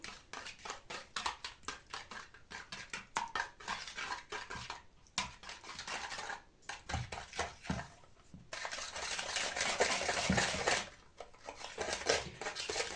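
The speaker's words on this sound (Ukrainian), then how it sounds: "тепер потрібно нам все добре перемішати" Spoon stirring verhuny dough mixture with sugar in a bowl, a steady run of scraping and clinking strokes of utensil against the dish, close and fairly loud, with no talk.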